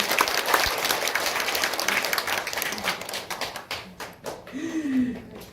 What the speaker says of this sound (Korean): 수원 캠퍼스의 문선순 학장님 박수 부탁드리겠습니다.